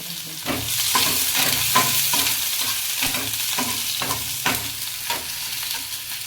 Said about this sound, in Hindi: देखी जब हमार कढ़ाई गरम हो गई तो एकरा के हम प्याज फ्राई करम